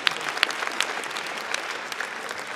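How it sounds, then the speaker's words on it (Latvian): An audience at a FuckUp Nights event in Riga applauds after a talk, a dense, steady patter of many hands clapping at close range with a few sharper individual claps standing out. "Aplausi viņai."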